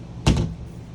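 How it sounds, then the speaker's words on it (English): A magnetic bathroom door in a 2024 Forest River Salem Hemisphere Hyper-Lyte 22RKHL travel trailer shuts with one close, solid thud and a quick rattle, followed by a low room hush. "you got your door here that is magnetic to shut"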